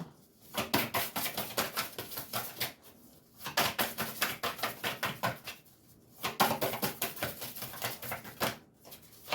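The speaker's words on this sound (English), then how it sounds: "Two more shuffles, and I'll pull from the top." Tarot cards riffled and shuffled by hand in a quiet room, a dense run of crisp papery flutters repeating in three bursts separated by short pauses, close and fairly soft.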